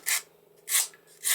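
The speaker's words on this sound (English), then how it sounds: "So here comes simple little sanding board." A simple sanding board rubbing over wallpaper in three short strokes, a dry hissing rasp with brief pauses between passes, close and fairly quiet.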